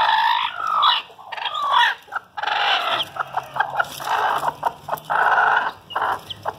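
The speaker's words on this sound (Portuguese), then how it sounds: "E agora eu vou mostrar a outra garnizé que está chocando o ovo" Broody bantam hen sitting on eggs, clucking and squawking in agitated bursts, followed by a run of short, rhythmic low clucks, close up.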